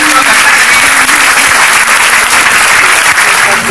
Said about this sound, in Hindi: शानदार तालियां लोगों से